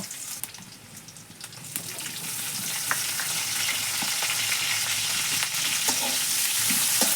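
Garlic frying in a pan for lentils cooked with jute leaves: a steady close sizzle that grows slightly louder over the whole stretch, with occasional pops and a few stirring clicks, and no voices.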